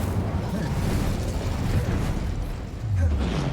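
An Incendio fire spell is cast in a Harry Potter video game, giving a dense, loud burst of roaring, crackling flame that fills the whole moment and swells again near the end.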